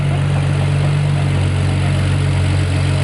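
A BMW 335i fitted with upgraded turbos idles steadily on its first startup, a loud, constant low rumble close by, with no one speaking.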